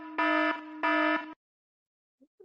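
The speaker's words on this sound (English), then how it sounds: "we got the panic button? We got it? Yeah, there it is. Okay, panic button. Hit it." A panic-button buzzer blares in two long, loud harmonic bursts separated by a brief gap, then cuts to near silence with only faint small noises at the end.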